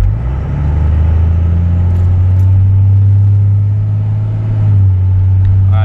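A Cummins diesel truck with a stock transmission and an Edge comp box set to 2 pulls away from a stoplight, its deep, loud engine drone close and steady with a slight shift in tone near the end.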